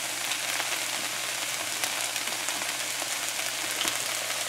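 Okra and shrimp frying in a pan with vinegar make a steady, dense sizzle and crackle that carries on evenly without a break.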